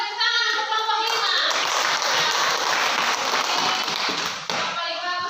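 Classroom students clap and applaud together for group 5, a sustained burst of brisk hand claps from a room of children, rising after a spoken teacher's voice and fading as talk resumes.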